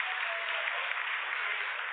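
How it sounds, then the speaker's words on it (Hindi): Applause in ISRO mission control during the Chandrayaan-3 lunar landing's vertical descent phase, a steady band-limited wash of many clapping hands heard through a broadcast feed, even and sustained. "Lot of applause indicates that till now the performance has been nominal."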